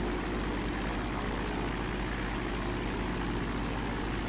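A Piper Cherokee 140 engine in the X-Plane flight simulator drones steadily at 2000 rpm during a run-up check, a constant buzzing hum with no pauses or speech.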